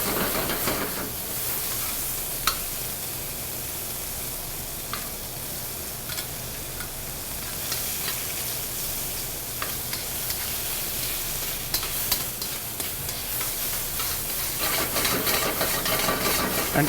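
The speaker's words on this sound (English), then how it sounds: "Our peppercorns, you can hear them popping in the pan." Green peppercorns popping and crisping in very hot oil in a pan for a Thai beef stir-fry, a steady loud sizzle with scattered sharp pops and crackles throughout.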